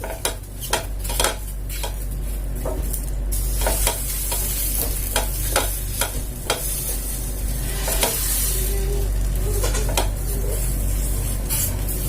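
Kocho, Ethiopian enset bread, bakes on a small griddle with a steady sizzle, while repeated close metallic clinks and scrapes of utensils against the pan sound over it.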